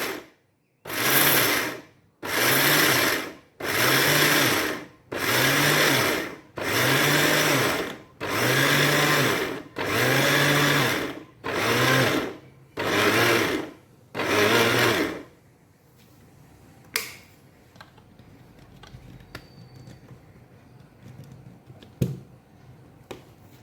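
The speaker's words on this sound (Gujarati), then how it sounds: "આપણે હવે મિક્સર જારમાં દળી લઈશું એને।" A mixer grinder jar run in short on-off pulses, about eleven loud bursts each roughly a second long with brief gaps, then stopping, followed by faint clicks and handling.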